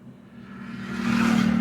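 A car held in third gear accelerates in traffic, and its engine note swells steadily from a low hum to a louder, close-up drone over under two seconds.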